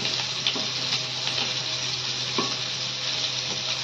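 Potatoes and spiny gourd fry in hot oil with a constant, even sizzle that fills the whole stretch, close and fairly loud.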